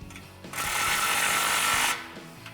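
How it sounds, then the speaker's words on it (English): A power tool runs one steady, loud whirring burst of over a second while tightening the clamp bolt on the muffler of an MBRP 3-inch XP Series dual exhaust on a 2009-2018 Silverado or Sierra, then stops. "I got my bolt head facing me to make it easier, so let's tighten that down"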